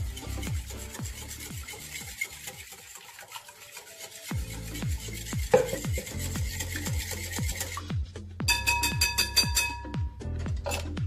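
Chicken pieces being stirred with milk in a bowl, a repeated rubbing and scraping from a spoon or hand working through the mix, close and fairly quiet, with a brighter clatter late on.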